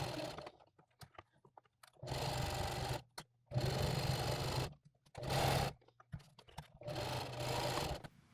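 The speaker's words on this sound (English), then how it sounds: "we're going to go ahead and sew a box into it just so it keeps its handle shape" A sewing machine stitches a box into nylon webbing for a range bag handle, running in several short bursts of rapid mechanical chatter separated by pauses.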